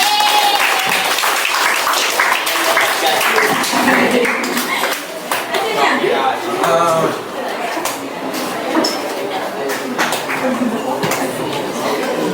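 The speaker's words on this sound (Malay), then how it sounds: "Tepuk tangan ke Fatihah" A classroom of pupils gives Fatihah a round of applause, dense and loud, with excited children's voices and chatter mixed through the clapping.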